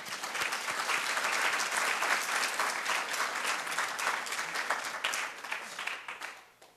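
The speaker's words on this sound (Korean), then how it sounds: "우리를 위해서 격려 박수 한번 보내겠습니다." A church congregation gathered for an Easter morning worship service, joined by the combined choir, breaks into sustained applause, dense and steady throughout before thinning out and fading at the end.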